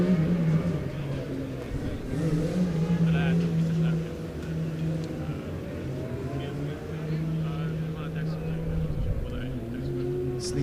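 A Formula Student race car running an autocross track at a competition, its engine droning steadily at a distance beneath continuous commentary.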